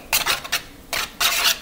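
Ramen noodles with beef seasoning are stirred in a bowl, giving several short scraping, rubbing strokes in quick bursts, close and moderately quiet.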